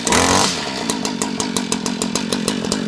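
Cold start of a Stihl or Echo gas-powered stick tool, likely an edger or trimmer, in March: a brief whir of the pull, then a small two-stroke engine catching and idling in a rapid, steady, close-up putter.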